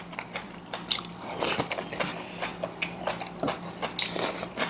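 Someone eats boiled beef shank (aronsatae suyuk) at a Korean home meal, with close, moist chewing and soft crunching bites in an uneven rhythm and no speech.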